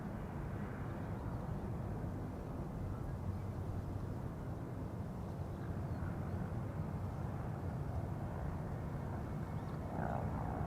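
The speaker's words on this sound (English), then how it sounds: "coming this way now is KLM flight 1219 on its way to Stockholm" A KLM passenger jet, flight 1219 bound for Stockholm, rumbles steadily at Schiphol Airport, a broad continuous roar holding loud and even with no pause throughout.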